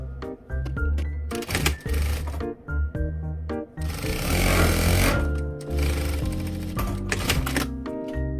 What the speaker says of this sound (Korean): 지금 이렇게 겉면끼리 포개 놓은 상태에서 주머니 입구 부분 박음질 할게요.